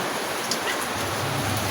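Steady rain falls outside a house where shih tzu dogs are sheltered, a dense continuous hiss heard close and fairly loud with no talking.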